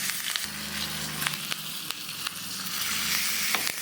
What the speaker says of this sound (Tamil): கடுகு நல்லா புரிஞ்சுக்கிட்டு நம்ம கருவேப்பிலை போட்டுக்கலாம்